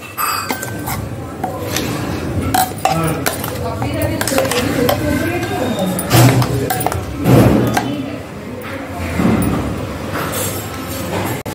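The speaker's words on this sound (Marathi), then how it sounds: "आता मी करवंदाची चटणी एका बाउलमध्ये काढून घेते." Karvanda chutney is spooned into a bowl with repeated clinks and scrapes of a spoon against dishes, sounding close and intermittent while someone talks over them.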